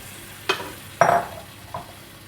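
Beef goes into a pan of browned masala for a Kerala-style buffalo meat and coconut fry. Three quick scraping stirs rise over a steady close sizzle.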